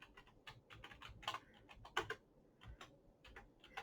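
Fingers typing on a computer keyboard, a quick, uneven run of close, light key clicks with brief pauses between bursts.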